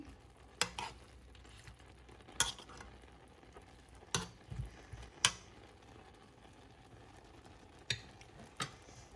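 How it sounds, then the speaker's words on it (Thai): Instant noodles with egg and dark soy sauce being stirred in a pan, heard as sharp utensil scrapes and taps at irregular intervals over a faint, steady sizzle, close by with no talking. "ใส่ไข่แล้วเราก็คนเลยอย่างนี้เลย"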